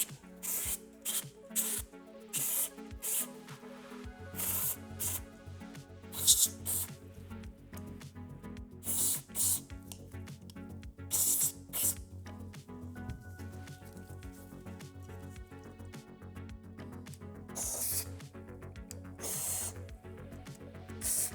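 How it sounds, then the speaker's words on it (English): Short hissing bursts of aerosol gun cleaner sprayed onto a 12-gauge double-barrel shotgun, several quick sprays in an irregular rhythm, close by, over a quiet background. "The gun cleaner is safe for the wood, so we can also spray the dust here."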